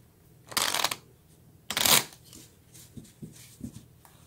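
Tarot cards are shuffled in two brisk, close riffling bursts, then a few faint taps and shuffles follow.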